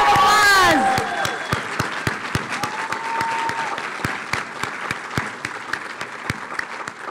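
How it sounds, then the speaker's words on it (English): Audience applause at a PA completion ceremony, sustained clapping from a crowd indoors with individual claps standing out, following a brief voice at the start. "Let's give it a round of applause."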